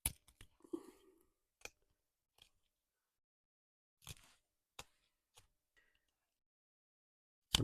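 A knife whittles a wooden snail shell, cutting down into a stop cut to round the shell. Sparse, quiet cuts and clicks come in irregular isolated bursts with long silent gaps.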